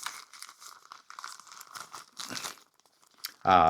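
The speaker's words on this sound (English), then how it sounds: "Oh, that one's stuck. I'm actually going to have to rip that one." A stuck plastic packet of Potensic Atom drone parts is torn and crinkled by hand in a run of soft scrunching rustles, ending in a louder, sharper rip close by.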